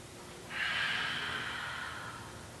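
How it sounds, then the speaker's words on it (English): One deep breath during a yoga session, a long airy rush that starts abruptly and fades over about two seconds, close and alone. "Let's take a big inhale breath. Let it go. Exhale."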